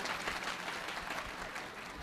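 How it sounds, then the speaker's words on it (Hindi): A crowd claps for a poet at a kavi sammelan held in an ashram, a brief, dense, even burst of applause with no voices over it. "आपकी आंखों में शर्म और हाथों में कुछ शक्ति बची हो तो कुछ तालियां इस ब्राह्मण के लिए भी बजा"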